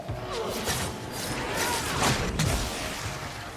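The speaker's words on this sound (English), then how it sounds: "I get caught in that explosion, I'm dead." Explosion in Dragon Age 2 on PS3, a dense sustained rumble with crashing, smashing bursts and thuds that stays loud for several seconds.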